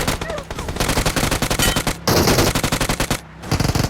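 Rapid automatic gunfire from a PUBG Mobile match on the Livik map, dense bursts of shots running nearly the whole time with two brief pauses, loud and close, with faint talk beneath.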